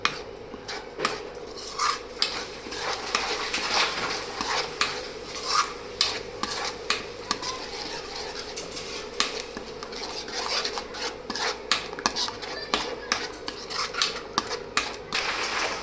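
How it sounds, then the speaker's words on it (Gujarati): A spoon stirs and scrapes garlic paste around a pan for bhungala bateta, with repeated clinking strokes against the metal over a soft, continuous sizzle and no talking. "હવે આપણે તેને સારી રીતે મિક્સ કરી દઈશું અને ખાલી 1 મિનિટ માટે ચડવા દઈશું."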